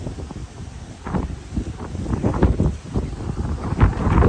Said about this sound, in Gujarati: શું પવન છે આજે હાથમાં મોબાઈલ પડી જાય